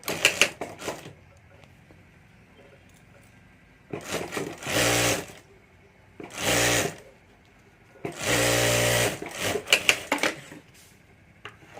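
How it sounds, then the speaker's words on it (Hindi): Sewing machine stitching a zipper onto a handbag, loud and close in three separate runs of a second or two each, with short clicks and handling noises between them. "तो यहाँ मैं ये जिप लगाकर सिलाई कर देता हूँ।"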